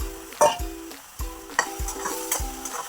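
Onion paste frying in oil over a low flame for a boiled-egg onion curry, stirred with a spatula. Close, regular scraping strokes about once a second ride over a soft, steady sizzle.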